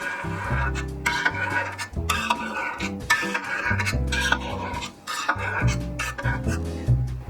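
A knife cutting mozzarella curd in a tall pot, with repeated scraping and clinking strokes against the pot in an uneven rhythm, close and fairly loud with no talking.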